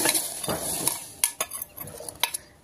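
Soaked sago pearls tipped into boiling milk and stirred for kheer, a brief soft splash and bubbling followed by several clinking scrapes of a spoon against the pot, close and fairly quiet.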